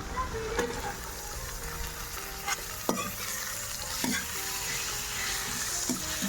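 Garlic and onions being lightly browned in a pan for a pea-fritter curry crackle and sizzle continuously, broken by several clinks and scrapes of a spoon stirring against the metal.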